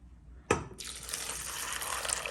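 Boiled water is poured into a slow cooker holding kidney beans: a small clink, then a steady close-up stream of liquid splashing and filling, moderately quiet and alone.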